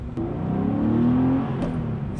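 A 25-year-old air-cooled Porsche 993 Carrera, 272 horsepower, drones with a steady, loud engine note close by, rising slightly in pitch mid-way, with no talk.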